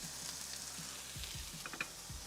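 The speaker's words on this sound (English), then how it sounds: "We are just searing the outside to lock in some more flavor." Chicken sears in a pan with a steady hiss and crackle, faint and continuous, while a low repetitive hum and a few soft clicks sit underneath.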